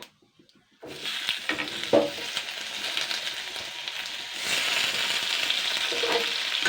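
Vegetables drop into hot oil and are stirred, bursting into a loud, close sizzle after a brief quiet start, with scraping stirs and the frying hiss swelling steadily louder toward the end.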